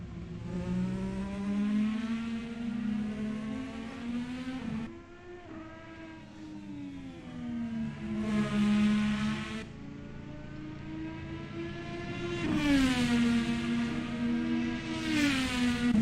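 IndyCar racing video game cars circling Virginia International Raceway, engines whining at high pitch and sweeping up through gears, with repeated rises and drops as they accelerate, brake and pass close by.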